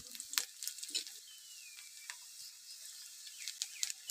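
Onions frying in a pan as cumin seeds go in, giving a steady bright sizzle with scattered sharp crackles and pops throughout, close by with no talking.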